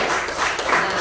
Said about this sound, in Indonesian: Kasih tepuk tangan lagi.